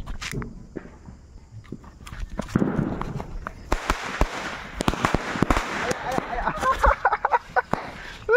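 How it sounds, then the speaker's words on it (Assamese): Diwali firecrackers burst in a string of sharp, loud cracks, scattered irregularly and growing denser toward the end, with people talking between the bangs. "120 টকাৰ বোমা ফুটাই দিম"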